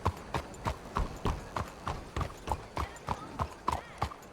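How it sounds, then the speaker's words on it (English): A single horse's hooves clip-clopping in a steady walking rhythm in the Red Dead Redemption 2 video game, close and evenly paced, with faint background ambience. "I thought I saw more than one horse, but it was just one"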